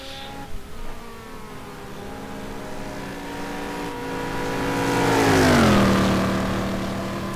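GT2 race cars circle Suzuka in a racing video game, their engines whining and shifting pitch. One car swells louder and rises as it draws near, then drops away in a sweeping pass.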